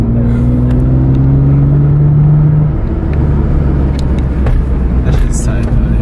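A car engine revs high, a loud sustained droning roar with rising tone that holds for a couple of seconds then settles into steady road rumble, with voices talking over it.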